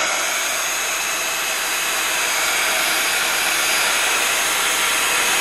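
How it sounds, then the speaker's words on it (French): A heat gun blows a loud, steady, close-up roaring hiss, drying the background of an embossed handmade Christmas card, with no pauses. "Non, il n'est pas sec, donc je vais donner un coup de heat gun."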